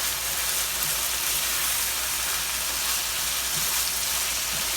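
Thai beef sizzling in a hot pan while being stirred, a loud steady crackling hiss with occasional soft scraping, continuous and close with no voices.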